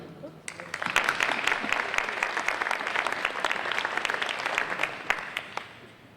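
Applause from an audience at an awards ceremony welcomes a provost to the stage, a dense, steady clatter of many hands clapping that lasts the whole stretch without pause.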